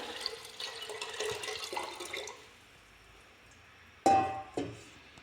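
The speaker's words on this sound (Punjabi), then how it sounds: "ਹੁਣ ਇਹ ਕੁੱਕਰ ਦੇ ਵਿੱਚ ਪਾਣੀ ਪਾ ਦਿੰਨੇ ਆ" Water pours in a steady rushing stream into a pressure cooker for a couple of seconds, then stops, followed by two sharp metallic knocks.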